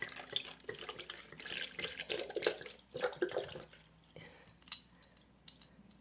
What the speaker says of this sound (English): So what I have here is about 2 cups of almond milk. So I'm going to pour that in.